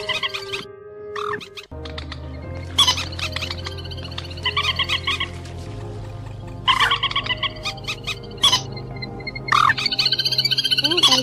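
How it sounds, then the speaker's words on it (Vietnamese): Recorded calls of purple swamphen and crakes, played for bird trapping: repeated squeaky, nasal calls in bursts and clusters over a steady low drone, loud and close throughout. "Đây chỉ là một đoạn ngắn trong tiếng chim chuẩn đầy đủ và cập nhật mới nhất để đi bẫy"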